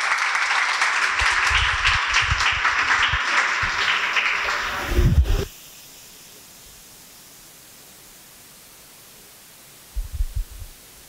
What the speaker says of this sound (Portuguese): salva de palmas para todos nós